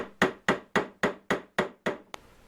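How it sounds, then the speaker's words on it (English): A hammer drives a small nail into a wooden chalkboard frame with seven evenly spaced, sharp strikes, then a final lighter tap, close and distinct with quiet between the blows. "Hammer it in at an angle."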